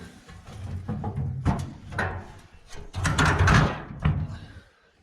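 An old metal toolbox drawer front is pulled out, giving a few scraping, clattering slides and bumps with a louder burst of rattling partway through, close and fairly loud.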